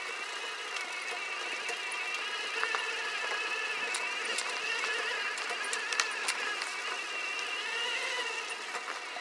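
CYC X1 Pro electric bike motor with a BAC 855 controller climbing a technical uphill trail, a steady high motor whine with ticks and rattles over it, continuous and close.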